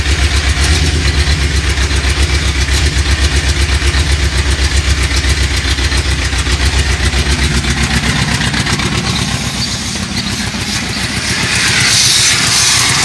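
A Ford F100 pickup's V8, long abandoned, runs steadily at idle with a rapid, loud, continuous engine pulse throughout, picking up slightly toward the end.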